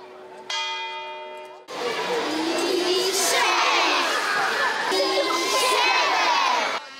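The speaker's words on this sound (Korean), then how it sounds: "아이들은 같이 소리를 지르면서 환호한다." A crowd of children in the town square at Poznań's town hall bursts into loud shouting and cheering, a dense excited roar that swells and carries on after a brief bell tone at the start.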